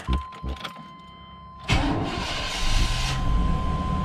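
A 1997 Chevy engine cranks briefly after a camshaft position sensor replacement, then catches and roars to life at about the midpoint, settling into a loud, steady run close by.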